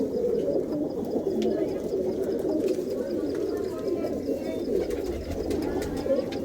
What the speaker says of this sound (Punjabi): ਆ ਦੇਖੋ ਕਿੰਨਾ ਸਨੱਖਾ ਆਇਆ ਵੀ ਕਬੂਤਰ